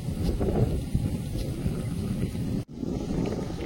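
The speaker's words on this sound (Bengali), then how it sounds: "আর প্রচন্ড হাওয়া হচ্ছে," Strong wind sweeps across a village riverside, buffeting the microphone in uneven gusts with a low roar that cuts out briefly before resuming.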